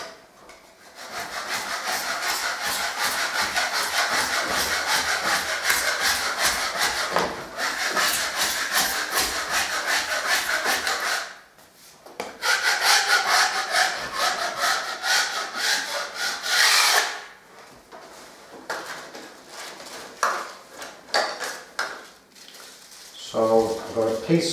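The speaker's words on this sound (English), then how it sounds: "Got me old filling blade, quite sharp, honed for stripping." A sharpened, honed filling blade scrapes along a crack in an old lath and plaster ceiling, rasping in long continuous strokes with brief pauses between bursts, close and loud.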